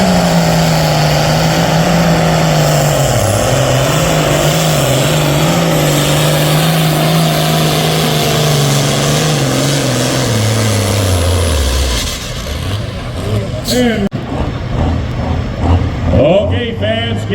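A pro stock pulling tractor roars at full power during a Drayton 9K and 10K class pull. The loud engine holds a steady pitch and then drops off near the end, with a rough, crackling tail after it.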